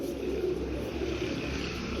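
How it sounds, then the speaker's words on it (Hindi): Kamagar pigeons coo softly in a steady low murmur close by, with continuous gentle rumbling calls and no talk. "ये कमगर कबूतर हैं दोस्तों, ओरिजिनल कमगर कबूतर हैं माशाल्लाह से"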